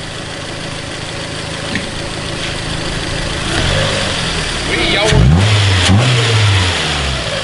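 A car engine runs steadily during an oil change with the engine running, then revs up in a couple of rising surges; a voice briefly speaks near the end.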